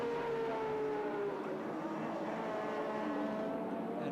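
A 1984 touring race car at Sandown accelerates up through the gears into fifth down the straight, its engine droning steadily at a distance with faint commentary beneath.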